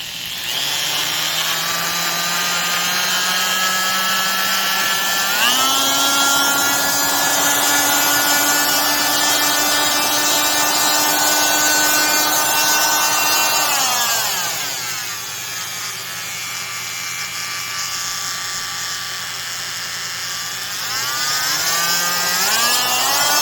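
A freshly greased Porter-Cable oscillating multi-tool runs with a steady, buzzing mechanical whine that rises in pitch as the speed is stepped up, drops back down, then climbs again.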